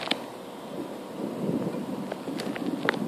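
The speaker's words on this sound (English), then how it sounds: "Another day of thunderstorms. But this time, it's stronger." Thunder from a severe lightning storm over New York City rolls as a steady low rumble with faint crackles, mixed with rain and wind and no talking.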